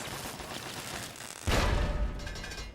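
Gunfire in Fallout 3 erupts partway through as a loud burst of rapid shots and booms, sustained to the end over a background of game noise.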